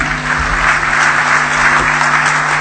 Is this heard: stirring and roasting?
no